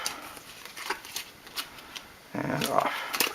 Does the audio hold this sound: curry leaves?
no